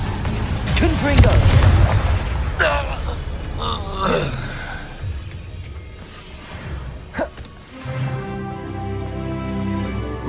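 A Confringo fire blast in the Hogwarts Legacy video game, a loud booming burst with rumbling mechanical roar, followed by groans and scattered impacts as the fight continues, with voices over a steady musical drone.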